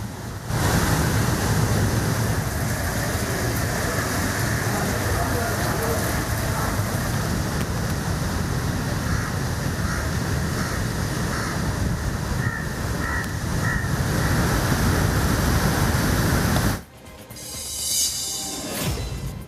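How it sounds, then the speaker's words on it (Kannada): Sea waves pound against the walls of shoreline houses on the Someshwara Uchila coast in a loud, continuous roar of surf and spray that cuts off abruptly near the end. "ಸೋಮೇಶ್ವರ ಉಚ್ಚಿಲ ಕಡಲ ತೀರದ ಮನೆಗಳು ಅಪಾಯದ ಅಂಚಿನಲ್ಲಿದ್ದು ಸಮುದ್ರದ ಅಲೆಗಳು ಮನೆಯ ಗೋಡೆಗೆ ಅಪ್ಪಳಿಸುತ್ತಿವೆ"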